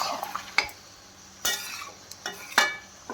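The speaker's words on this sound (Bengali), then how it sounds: "একটু কষি।" Tomatoes, green chillies and potatoes being stir-fried in a pan in a home kitchen, with a soft sizzle beneath three or four sharp scrapes and clinks of a spoon against the pan.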